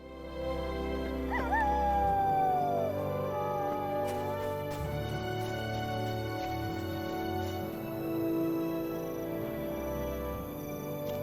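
A dog in the Lord of the Rings Online video game gives a short whimpering whine over a steady layer of in-game ambient music and background sound.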